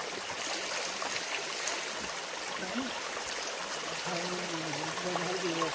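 Natural spring water flows steadily out of the ground at Kia Jhara spring in Dhenkanal, a constant close rushing and trickling wash with faint murmurs in the background.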